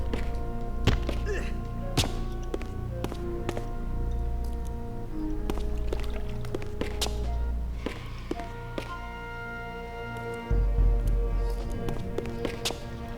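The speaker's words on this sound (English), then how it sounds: "Let's destroy the Seraphim's wine crates, baskets." Seraphim wine crates and baskets being smashed in Legacy of Kain: Defiance, a steady run of hollow wooden thunks and thuds over droning game music, with a heavier crunch near the end.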